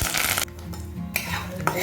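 Mustard seeds sizzle and crackle in hot oil in bursts, while a utensil scrapes and clinks against the pan close up.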